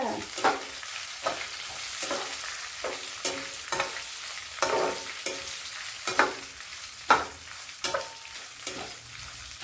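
Mustard and fenugreek seeds fry in hot oil for a Telugu rooti pachadi, with a continuous crackling sizzle broken by a dozen or so quick scraping strokes of a spoon in the pan, close by and without speech.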